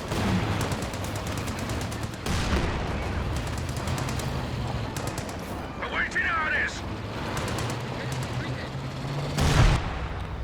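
Katyusha rocket barrage in Company of Heroes 2: a dense, continuous rumble of launches and explosions with rapid crackling bursts, a louder blast near the end, and battle noise throughout.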